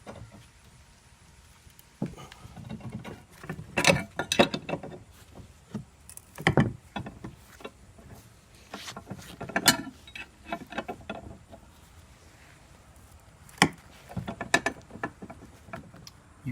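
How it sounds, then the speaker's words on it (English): A rusty upper control arm bushing is pressed out of its arm with a press tool, giving irregular creaks, groans and sharp cracks between quieter stretches of low mechanical strain. "The bushing should start coming through."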